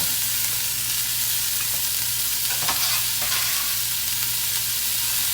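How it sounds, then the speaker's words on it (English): Chopped celery and carrots sizzle steadily in a pressure cooker pan while being stirred, a constant frying hiss with occasional soft scrapes of the spoon, close and unbroken, with no one talking. "Give that a stir."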